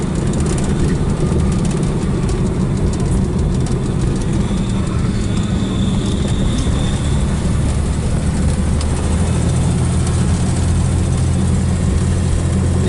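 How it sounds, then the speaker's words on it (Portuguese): A running 1974 Dodge Coronado with bearing noise, an Argentine Mopar, gives a loud, steady low drone and rumble with a constant mechanical whir layered over it, close up and unbroken throughout, with no talking. "Bom, barulhinho de rolamento."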